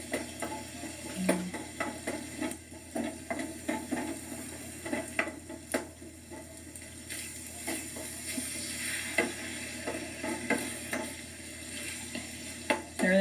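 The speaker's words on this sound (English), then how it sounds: "Stir this around, make sure you get all the beef coated." Beef sizzles in a pan while being stirred, with soft scraping and clicking strokes recurring over a low frying hiss, fairly quiet and close, without speech.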